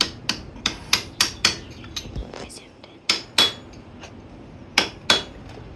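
Metal punch struck with a hammer to flatten a nut on a motorcycle tool job: a series of sharp, ringing hammer blows in irregular bursts, close and loud, with short pauses between groups.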